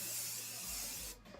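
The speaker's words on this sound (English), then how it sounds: "I'm just going to spray it with this fixing spray Professional Fixer, which is like really strong" A can of Professional Fixer makeup setting spray hisses onto a face in one steady, close burst of about a second before cutting off.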